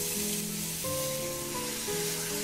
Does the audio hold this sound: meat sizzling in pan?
yes